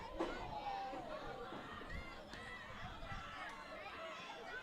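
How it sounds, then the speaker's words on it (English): Crowd at a high school softball game between Liberty Hill and East View, a faint, distant murmur of chatter and cheering from the stands, with a few louder bursts of excited voices. "you can probably hear the crowd"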